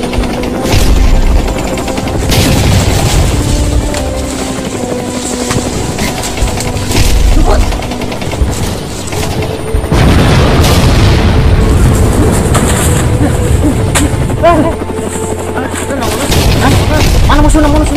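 Firecrackers go off in dense, repeated bangs and crackling bursts throughout, loud and close, in an outdoor setting with voices talking and shouting underneath.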